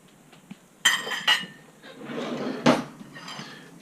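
A metal fork clinks and scrapes against a plate holding a freshly cooked omelette, a few sharp close taps and rattles in a quiet kitchen.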